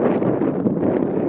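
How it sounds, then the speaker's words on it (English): Wind blows across a microphone outdoors, a loud, steady buffeting rumble that fills the short stretch without pause. "Can you hear me over this wind?"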